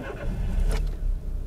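Renault Symbol 1.6 16-valve sedan, a 2008 model with 105 horsepower, driving along with a steady low engine and road rumble and a brief brighter swell of noise midway.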